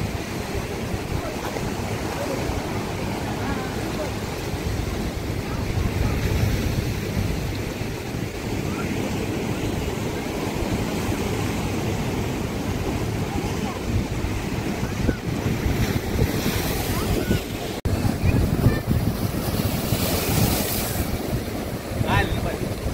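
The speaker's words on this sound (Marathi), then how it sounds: "तुम्ही लाटा बघू शकता, केवढ्या मोठ्या प्रमाणात लाटा आहेत" Big sea waves crash and surge continuously at Uran Beach, Navi Mumbai, under strong wind buffeting the microphone in monsoon weather, a loud, rough roar throughout.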